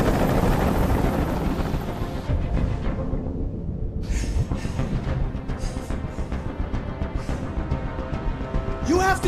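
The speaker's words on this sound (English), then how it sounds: "Tell that helicopter to get out of here." A helicopter hovers in the video game Detroit: Become Human during a hostage standoff, its loud continuous rotor roar with rhythmic chopping beats running throughout, joined by swelling game music and effects.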